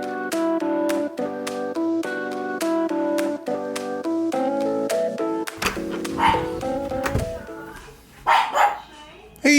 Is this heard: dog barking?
yes